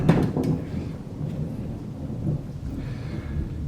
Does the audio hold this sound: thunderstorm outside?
yes